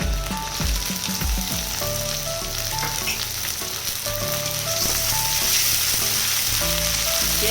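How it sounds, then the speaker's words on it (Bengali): Onion, garlic and prawns fry in a pan for a Bengali prawn and taro-leaf dish, giving a loud, steady sizzle that runs without a break and without talk. "পেঁয়াজ রসুন চিংড়ি মাছ ভালোভাবে ভেজে নিব।"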